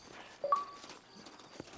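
Hooves of a horse in Red Dead Redemption clip-clop softly in a few brief steps, faint and close, with a short tonal game sound near the start.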